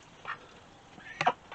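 Pet ducks quack softly from close by, a few short raspy calls spaced apart, with a quick cluster of quacks near the end.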